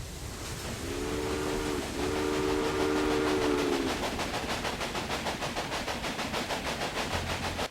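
A train running in the video game Railway Empire: a steady rolling rumble with a rhythmic clatter of wheels, and a long whistle blast sounding partway through, moderately loud with no talk.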